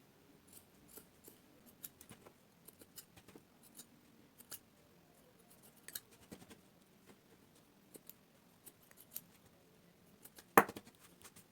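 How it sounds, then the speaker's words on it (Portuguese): Scissors snipping excess cotton cord on a decorative cushion, a series of faint, close, irregular clicks with one sharper, louder cut near the end. "Então, vou cortar tudo aqui e já venho pra vocês verem eu finalizando ela."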